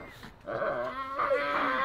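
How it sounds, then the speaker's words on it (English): A dog near a tiger gives a short series of close, whining bark-like vocalizations with tonal, yelping rises, fairly loud and alone. "Why are you barking, Kong?"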